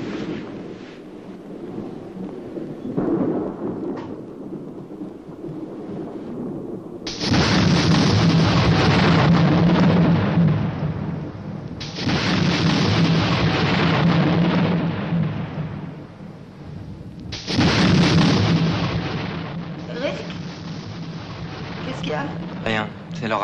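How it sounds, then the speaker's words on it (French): A thunderstorm outside at night sends long, loud rolls of thunder and rumbling in repeated surges over a steady wash of rain or wind, with people talking quietly in French beneath it. "C'est l'orage qui m'empêche de dormir."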